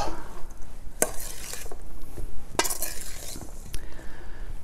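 Cajun shrimp and black bean salad with salsa and olive oil tossed in a bowl, a close series of utensil clinks and scrapes against the bowl with soft wet stirring between.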